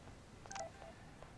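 A short electronic phone alert chime in the video game Life Is Strange 2, a quiet cluster of bright beeping tones over a low game background hum, with no talking.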